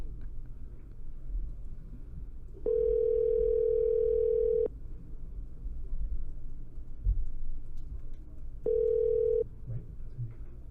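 A telephone call rings out while waiting for an answer, heard as a steady ringback tone lasting about two seconds, a long gap, then a shorter tone, over a low background rumble.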